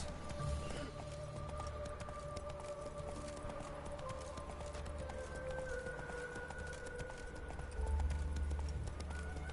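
A horse gallops in the video game The Witcher 3, its steady clip-clop hoofbeats running throughout over a constant layer of game ambience.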